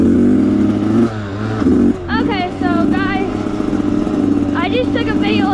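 A dirt bike engine revs hard and steadily right at the start of a ride, loud and close throughout, with brief dips in throttle and a few high whistling tones riding over the engine noise.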